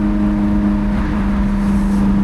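A Lotus Elise engine drones loudly from inside the car on a mountain pass, a steady low hum with a slight wavering in pitch from uneven throttle, no voices.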